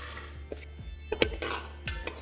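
Moong dal halwa being stirred in a pan over low to medium flame, with a spoon scraping and knocking against the metal in a few separate clinks and taps, close and fairly quiet.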